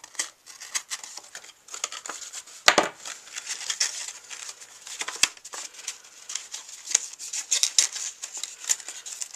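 Scissors snip out a small paper craft piece at a table, producing quick, close crisp cuts and light paper crinkling in an irregular rhythm, with no talking.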